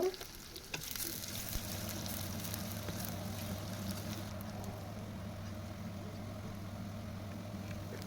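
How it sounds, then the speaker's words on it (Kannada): Chopped onion fries in hot oil with cinnamon, cloves and marathi moggu for butter chicken, a continuous close sizzle with occasional stirring and a low steady hum beneath. "ಈರುಳ್ಳಿ ಹಾಕೋಬೇಕು. ಚೆನ್ನಾಗಿ ಒಂದು ಸ್ವಲ್ಪ ಫ್ರೈ ಮಾಡ್ಕೋಬೇಕು."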